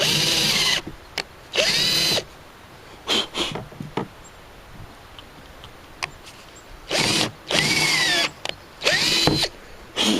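An electric drill whirs in loud bursts, starting and stopping repeatedly as it bores 5/8-inch holes, with short pauses of quiet between runs.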